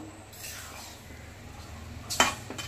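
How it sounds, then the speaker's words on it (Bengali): A spoon stirs raw rice in a pot scented with kewra water, a soft steady scraping that ends in one sharp metallic clink near the close, with faint low rumble beneath. "একটু নেড়ে দেব চালটাকে সুন্দর মতো।"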